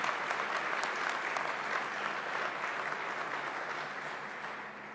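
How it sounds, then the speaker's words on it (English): A round of applause from the audience at a government announcement event in Niagara Falls, steady and fairly distant, slowly fading toward the end. "let's give them a round of applause"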